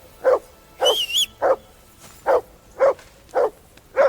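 A dog in the medieval video game Kingdom Come: Deliverance II barks in a steady series of about seven sharp, close barks, with a brief high whine or yelp early on.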